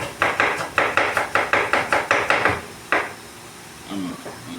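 A knife chops ginger on a cutting board in a home kitchen, about ten quick rhythmic thuds close up, then a pause, a single chop and a brief murmured voice.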